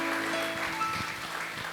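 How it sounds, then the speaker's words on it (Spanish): A church congregation applauds at a Spanish-language evangelical service, a brief burst of clapping fairly close and steady, with faint voices underneath. "Dale un aplauso al Señor."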